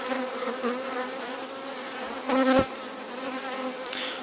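Calm honeybees hum steadily from an open, large hive, a close, continuous buzz with one louder bee flying past partway through.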